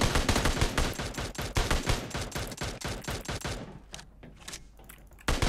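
Rapid automatic gunfire in the mobile battle royale game PUBG Mobile, dense and loud for about three seconds before it thins to a few scattered shots and then a final burst.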